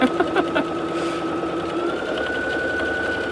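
A domestic sewing machine stitches flex foam for a boxy bag in a steady, close, continuous whir with a faint mechanical hum, running alone without talk.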